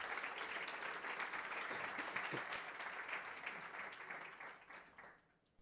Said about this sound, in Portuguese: Uma salva de palmas ao nosso presidente e a todos os presentes autoridades